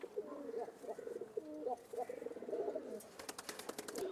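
Giribaz pigeons coo in a loft, a string of soft, low, throaty coos repeating close by, followed by a burst of quick clicking flutters near the end.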